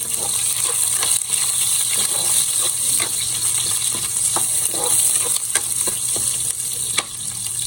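Garlic, onion and hot chili sautéing in oil in a pan, a loud continuous close sizzle with scattered clicks and taps of a spoon stirring through it.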